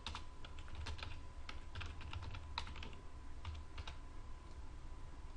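Light, steady typing on a computer keyboard while entering text in design software, quick irregular key clicks heard close up and alone throughout.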